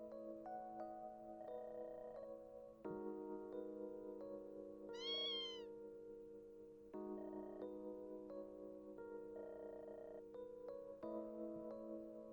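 A cat meows in the video game Tokyo Xanadu, one clear rising cry in the middle over a steady bed of layered game music.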